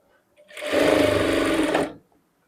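Sewing machine stitching a kandura at a half-inch seam gap: one steady, close whirring burst of rapid needle strokes lasting over a second, starting and stopping sharply, no talk.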